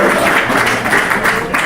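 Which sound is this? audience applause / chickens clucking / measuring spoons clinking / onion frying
audience applause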